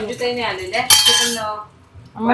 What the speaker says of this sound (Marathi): ती ठेवते दोन भांडी ती घासून घेते